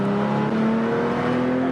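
A 1979 Porsche 911 SC drives at speed with its engine revving hard toward the redline, a loud, close, steady drone whose pitch creeps upward throughout.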